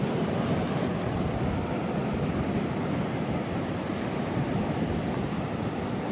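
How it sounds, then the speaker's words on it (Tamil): Shallow ocean surf in San Francisco's Sunset District washes and breaks in a continuous broadband roar, loud and close with steady wind noise across the microphone and no pauses. "வந்த உடனே இது ஒரு அலையா ஃபார்ம் ஆகி அடிக்குது பாருங்க"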